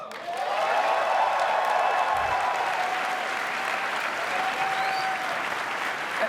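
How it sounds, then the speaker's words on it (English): A large audience at PlayStation Experience 2015 bursts into sustained applause, rising quickly and holding steady with scattered whoops and cheers. "Please, a round of applause."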